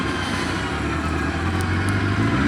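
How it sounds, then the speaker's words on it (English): A Suzuki SRAD motorcycle engine idles steadily close by, a continuous low mechanical drone with constant loudness and no revving. "It does actually idle now"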